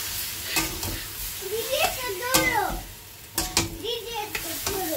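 Broccoli, potatoes and spice paste stirred in a sizzling pan, a steady frying hiss with scraping spoon strokes, while a voice speaks intermittently over the cooking.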